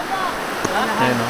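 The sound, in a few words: river water flowing at a swimming spot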